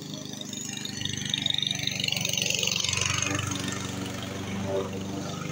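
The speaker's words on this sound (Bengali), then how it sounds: "ঘাস কাটার কাজ চলছে।" A grass cutting machine runs steadily at moderate distance in the garden of an old lodge, a continuous droning engine hum that swells slightly midway and stays constant throughout.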